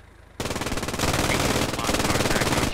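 Machine gun fire in a video game mission bursts in suddenly and keeps going as a sustained, rapid, evenly spaced stream of loud, close shots, with other gunfire layered in.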